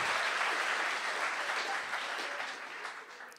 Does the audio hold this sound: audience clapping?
yes